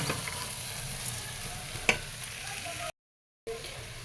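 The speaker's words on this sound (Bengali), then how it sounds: "চাল ডাল কষানো হয়ে গেছে" Rice and lentils sautéing with spices in a pot, soft steady sizzle with scraping stirs and one sharper knock, close by, broken by a brief gap of silence.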